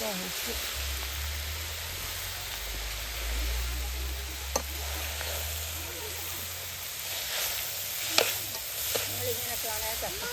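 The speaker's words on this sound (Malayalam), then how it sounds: "ഉപ്പ് ഇളക്കി പിടിപ്പിക്കട്ടെ നമ്മൾക്ക്" A spoon stirs salt into jackfruit thoran frying in a pan, giving a steady sizzle under a low hum, with a few sharp scraping clicks against the pan.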